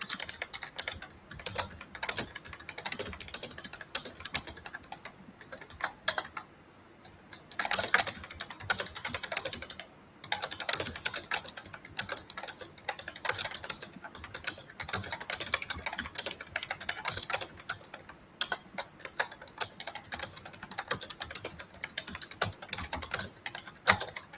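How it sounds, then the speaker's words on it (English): Typing on a computer keyboard during an online work call, a steady stream of quick, close clicking keystrokes with brief pauses between bursts, heard alone without speech. "Let me know when you're done typing"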